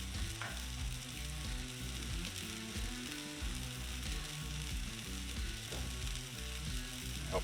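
English muffins frying face down in melted butter, giving a steady close sizzle with an underlying rhythmic mechanical hum throughout.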